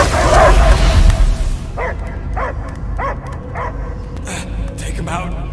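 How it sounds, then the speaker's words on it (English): In the video game Marvel's Guardians of the Galaxy, a dog gives a series of short, evenly spaced barks and yips, fairly close, after loud rumbling game sound effects die down. "I hear only barking."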